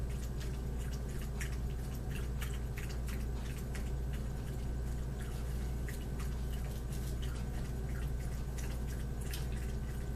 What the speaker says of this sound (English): that is my dog Shadow having a drink of water that you hear in the background